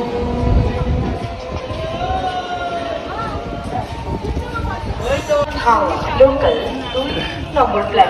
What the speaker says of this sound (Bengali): আর এই যে ট্রেনটা চলে যাচ্ছে